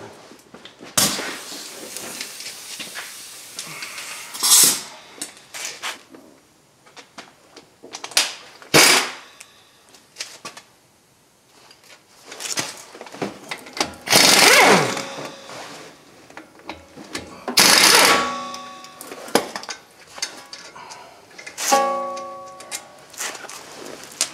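On a 2006 Honda Odyssey, a 14 mm tool works the front caliper slide bolts, giving sharp metallic clacks and short ratcheting rattles in scattered bursts with quiet gaps, close and loud.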